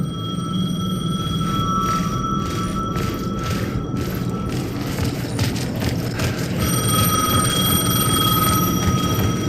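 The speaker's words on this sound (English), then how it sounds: "Ringing. Somehow I knew the call was for me." An old-fashioned telephone rings in the Alan Wake II video game, a bright repeating electric bell trilling in bursts over a low murky ambient drone, stopping briefly before ringing again.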